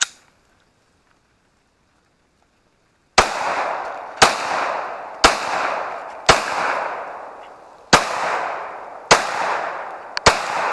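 A Glock 19 pistol fitted with a CAA Micro Roni stabilizer brace is fired freehand. After about three seconds of near silence come eight loud, close shots at uneven intervals, each with a sharp crack and a short decaying echo.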